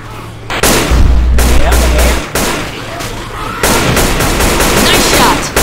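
Loud, close gunfire from the zombie shooter Left 4 Dead 2, with repeated heavy shots and sustained bursts filling the whole stretch, alone without talk.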